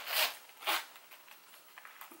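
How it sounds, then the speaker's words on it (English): A zipper on a metallic cherry-coloured Coach wallet is drawn open in two quick, close rasping pulls, followed by faint soft handling rustles, with no talking. "The zipper do seem to be smooth."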